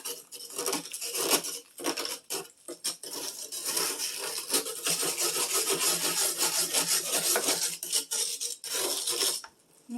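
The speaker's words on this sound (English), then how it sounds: "You're just going to continue scraping all the ice." Hard scraping of ice off the inside wall of a deep freezer, close and loud, with continuous rasping strokes broken by brief pauses and a few sharper scrapes near the start.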